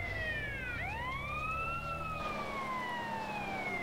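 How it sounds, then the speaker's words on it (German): A GTA San Andreas police car siren gives a clear electronic wail that dips sharply, then sweeps back up and slowly slides down, sustained over a continuous background hum. "Polizeiauto. Das haben wir gern."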